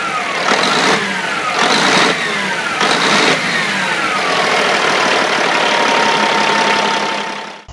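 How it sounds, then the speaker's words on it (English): A big Caterpillar 3406 diesel truck engine runs loud and close, rising in several rhythmic surges before settling into a steady, heavy drone that ends abruptly. "It's the legendary 3406 from Caterpillar"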